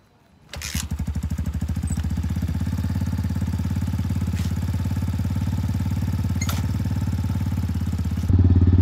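An X-Pro Titan 250cc dirt bike engine that sat all winter catches and settles into a loud, steady, close idle with rapid even firing pulses as it warms up, then grows louder near the end, with no one talking.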